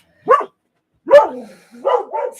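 A dog gives three loud, close barks, a single bark followed after a pause by a longer one, then a quick double bark at the end, with one brief spoken word among them.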